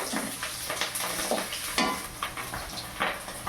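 Green chillies frying with mustard in a pan for a Bengali bhola fish curry: a steady close sizzle with intermittent stirring scrapes and spoon taps throughout, no voices.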